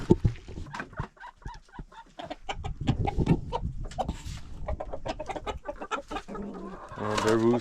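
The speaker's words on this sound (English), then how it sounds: "Oh, the rooster's coming." A rooster on an off-grid homestead clucks in a run of short, choppy calls, with a louder, drawn-out squawk at the end; people talk nearby throughout.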